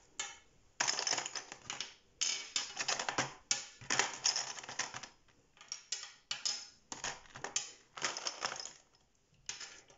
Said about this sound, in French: tu l'écris sur ton ardoise